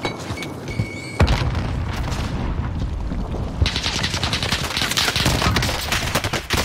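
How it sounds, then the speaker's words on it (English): Warzone gunfire with rapid, dense bursts of automatic shots and booming reports, loud and continuous, growing heavier partway through. "I'm getting shot from so many angles, Chuck."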